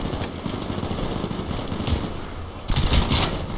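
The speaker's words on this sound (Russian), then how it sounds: "я обожаю вот эти автоматические патроны" Automatic weapon fire in Titanfall, rapid bursts of gunshots that run close and loud for a few seconds, with a sharper burst near the end.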